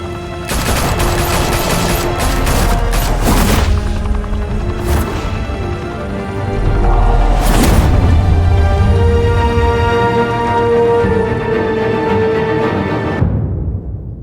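Shootout gunfire from Batman: The Telltale Series, loud dense bursts of automatic fire with sharp cracks and booming low thuds, rattling in waves over about thirteen seconds before cutting off abruptly.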